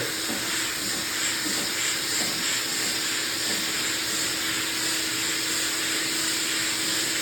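A vacuum dust extraction hose runs steadily during block sanding of automotive body panels with guide coat, giving a loud, constant hissing whoosh with no pauses.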